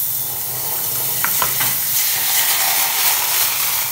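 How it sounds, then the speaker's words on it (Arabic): A spoonful of butter melts in a saucepan on a lit stove, giving a steady close sizzle and hiss with a few soft scraping touches partway through, no voices. "دونك شعلنا على الكاسرونه، غادي نديرو فيها سيدي معلقه ديال الزبده بحال هكا"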